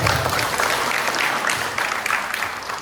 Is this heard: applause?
yes